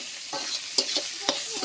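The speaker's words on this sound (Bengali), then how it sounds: "এরকম করে নাড়াচাড়া করে ভেজে নেব ভালো করে" Sliced bitter gourd and fish roe sizzle in a frying pan while being stirred, a steady hiss broken by a few sharp scraping strokes of the spatula.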